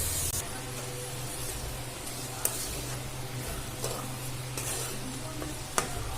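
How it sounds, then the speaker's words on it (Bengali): Chana dal fried and stirred in a pan of rice for pulao, a continuous bright sizzle under a low hum with occasional sharp clinks of the spoon against the pot. "ছোলাটা দিয়ে ভালো করে আবার নাড়াচাড়া করে নেব। ছোলাটা ভেজে নেব ওর মধ্যে দিয়ে।"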